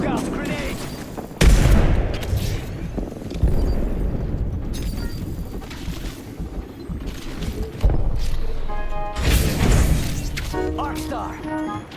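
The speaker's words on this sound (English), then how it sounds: "Look out, grenade." Explosions and bursts of gunfire ring out in Apex Legends, with heavy booms, rapid shots and game voice lines talking over the combat.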